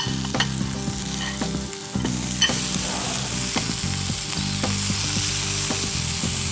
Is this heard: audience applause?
no